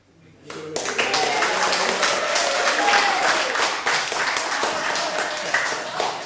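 A crowd breaks into sustained applause, many hands clapping loudly and steadily for several seconds after a brief quiet start.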